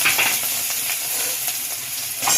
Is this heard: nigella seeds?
yes